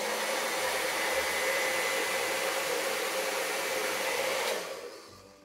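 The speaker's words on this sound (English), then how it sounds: "So hair dryer goes next." A hair dryer blows steadily on wet acrylic pour paint, a loud close rushing hiss that holds for several seconds and then switches off.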